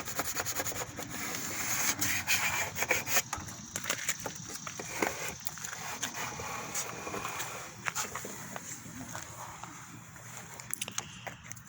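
A squeegee scrapes across vinyl sign letters with soft, continuous rubbing and rasping strokes, faint and close, with scattered small clicks.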